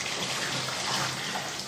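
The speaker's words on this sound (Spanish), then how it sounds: "hervir el agua y golpearla de esta manera." Boiled water pours and splashes continuously for a short moment, a gushing, watery rush close by with no talking.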